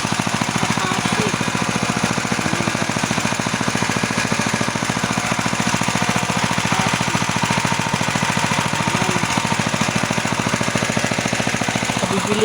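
A newly bought water pump motor for irrigation runs steadily with a loud, fast, rattling mechanical drone that never changes in pitch or volume, with no talking.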